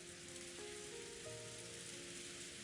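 Rain patters steadily on chapel walls in the visual novel Umineko, a soft continuous hiss under faint sustained tones of background music.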